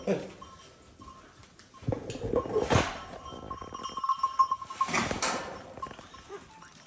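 Sheep recovering from feed poisoning bleat in a farm pen, two distinct bleats a few seconds apart over quiet background noise, with people speaking nearby.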